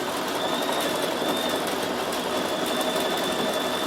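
A Bernina 7 Series embroidery machine stitches at close range, a steady, fast, even mechanical whirr and patter that runs unbroken throughout.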